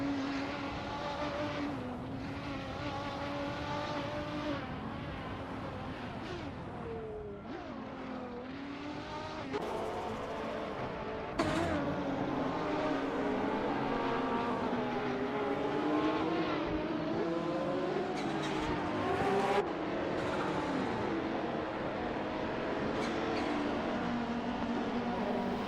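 Race car engines in a racing video game, including a 1993 Peugeot 405 in the BTC class, drone and whine steadily with shifting pitch as they rev up and down. The sound is continuous, mid-level and unbroken, with occasional sharper surges and no voices.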